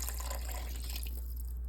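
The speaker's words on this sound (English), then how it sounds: "Now adding the water so that the meat becomes tender" About a cup of water poured into a cooking pot of meat for a Somali rice dish, a soft, close trickling and splashing against a steady low background hum, thinning out near the end.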